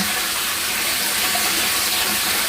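Pumped water pours steadily down from a running pump while a water tank is being cleaned, a continuous loud splashing rush with no pauses and no one talking.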